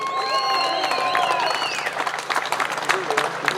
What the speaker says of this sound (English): Please, some applause for Matt Abel.